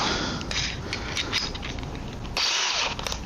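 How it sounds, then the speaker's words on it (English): A power drill whirs steadily at close range, drilling a 3/8 inch hole in a tabletop for a threaded insert, its motor note wavering and surging briefly near the end. "And we're going to drill"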